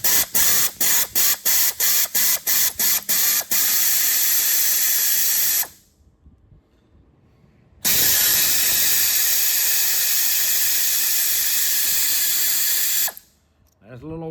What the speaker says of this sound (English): That's a little old 1/4 inch air ratchet right there